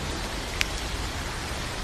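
Steady, even rain hiss fills the background with a low rumble beneath, and a single faint drip or tick stands out briefly.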